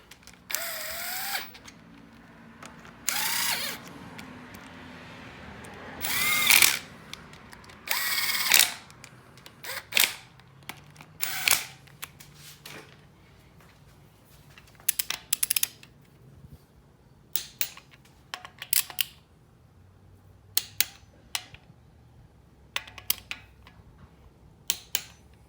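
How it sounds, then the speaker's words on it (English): Oil pump bolts on an LS engine with a Melling pump being run in and torqued to spec, heard as a series of short bursts of power-tool whir and ratcheting clicks separated by pauses, close and fairly loud, with no talk. "So we're going to run them in and then torque them to 18 pound-feet."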